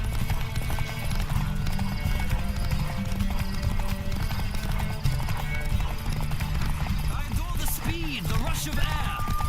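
A horse gallops in The Witcher 3 with a dense, continuous run of hoofbeats under game music and effects, and a neigh rises near the end.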